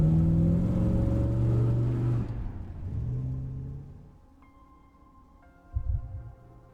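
A car engine in an accident-investigation video game pulls away loudly with a steady low rumble, then fades into a quieter idle hum, followed by a brief thud near the end.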